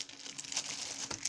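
A parcel is opened from a thin bubble-wrap plastic mailer, giving close, steady crinkling and rustling of plastic with small crackles throughout, with no voices.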